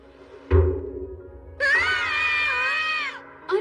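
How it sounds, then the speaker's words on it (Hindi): Two animated cartoon children scream, opening with a sharp thump and brief cry, then a long high wavering shriek of over a second, loud and alone, with another outburst beginning at the end. "तुम दोनों चिल्ला क्यों रहे हो?"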